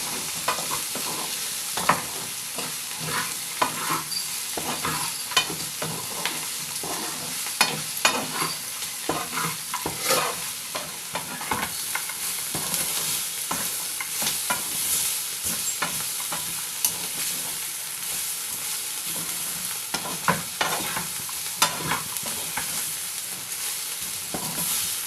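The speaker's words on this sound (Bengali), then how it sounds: "এই সাদা তিলটা দিয়ে দিলাম, দিয়ে এবার সবগুলো উপকরণকে ভালো করে ভেজে নেব।" Mixed vegetables with peanuts and white sesame seeds stir-fried in a pan, with steady sizzling and frequent scraping and clattering strokes of the spatula throughout, close and fairly loud, with no talking.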